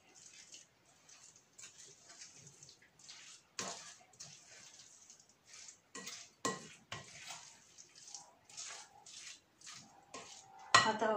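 Boiled eggs and avocado are mixed with mayonnaise in a bowl, a quiet series of soft, wet scraping and clinking strokes from a utensil, irregular and close, ending in a louder clank.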